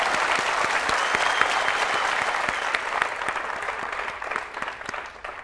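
A studio audience on a Bhojpuri TV quiz show breaks into sustained applause, a dense, even wash of many hands clapping that holds steady for several seconds before easing slightly.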